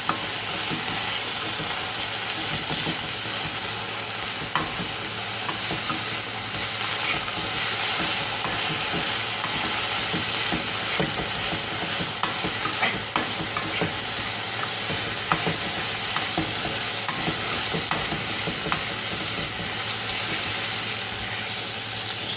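Food sizzles steadily in a pan while being stirred with salt and chilli added, a loud continuous frying hiss broken by frequent scraping clicks of the utensil, with no talk over it.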